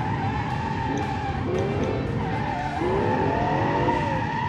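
V12 engine in a muscle car body drifting in fifth gear, tires skidding and squealing in rising and falling sweeps over a steady loud engine roar, continuous and close.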